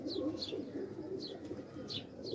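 Soft pigeon coos rise and fall beneath repeated high chirps from birds, a steady outdoor chorus with no talking.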